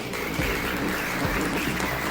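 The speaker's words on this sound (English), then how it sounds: "Could we get one more round of applause for my translator, Chewy Porkins?" Studio audience applauding steadily for a host's translator, a dense, even patter of many hands at moderate level, with no talk over it.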